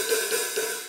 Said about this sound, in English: we're going to deal with just a little bit of a sizzle out of the hi-hat